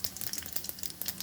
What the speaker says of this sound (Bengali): তেলটা আমি গরম করে নিয়েছি, এর মধ্যে দিয়ে দেবো 1 ছোট চামচ পাঁচফোড়ন